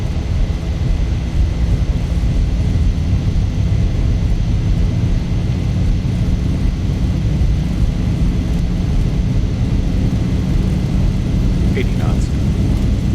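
A Zibo Boeing 737 rolls for takeoff in a flight simulator. A loud, steady engine roar and rumble fills the whole stretch, with no talk over it.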